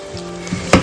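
Marinated soya hitting hot coconut oil in a pan, a steady soft sizzle ending in a brief louder clatter.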